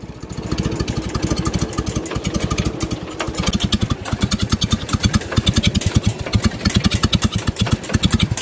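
A 1952 Studebaker 2R5 truck engine idling low in a shop, a loud, close, rhythmic chug of evenly spaced firing pulses that holds steady and strengthens slightly over time.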